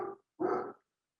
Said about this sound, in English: if you can hear my dog, he's going crazy out there